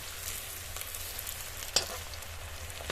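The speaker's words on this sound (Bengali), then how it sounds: "মিডিয়াম ফ্লেমে রেখে ফুলকপিটা ভাজবো" Cauliflower fries in a pan over a medium flame with an even, continuous sizzle close by, broken by a couple of sharp pops or clinks.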